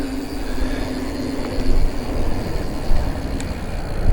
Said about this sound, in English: you got a plane just taking off right there